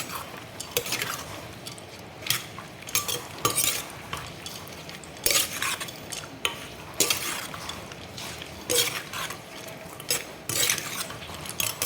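Sliced pork stirred in a mortar for a Thai pounded pork dish, giving irregular scraping knocks and clinks of utensil against the bowl, fairly close, with no talking.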